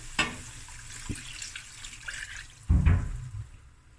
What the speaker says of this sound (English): Okay, so now I'm going to add some warm water.